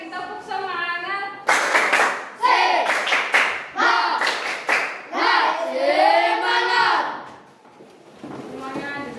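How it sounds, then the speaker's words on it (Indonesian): A class of children does another spirit clap, tight groups of crisp, loud claps in a set rhythm, between the teacher's spoken cue and the kids' group chant. "Sekali lagi tepuk semangat."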